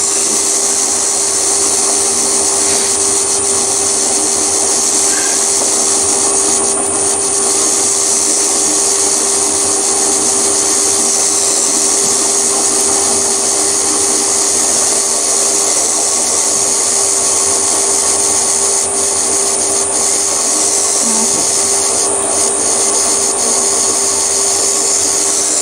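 A 5mm drill bit cuts into metal on a milling machine, a steady loud whine and hum with a constant tone that runs throughout without pause.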